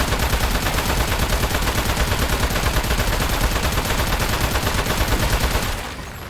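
Rapid, sustained automatic gunfire rattles loudly and evenly in a video game for several seconds, then cuts off abruptly near the end.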